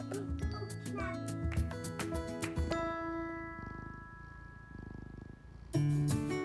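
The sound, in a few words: cats meowing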